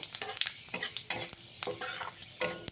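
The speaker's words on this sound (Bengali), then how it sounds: "এবারে ওই মাছ ভাজা তেলের মধ্যে ফোড়নে দিচ্ছি দুটো শুকনো লঙ্কা তার সাথে দিচ্ছি হাফ চামচের কম পাঁচ ফোড়ন দিয়ে হালকা ভাজা ভাজা করে নিতে হবে" Two dried red chillies and a small spoonful of five-spice tempering fry in leftover fish-frying oil, giving a bright crackling sizzle. A spatula stirs the pan with intermittent scrapes and clinks, close and fairly quiet.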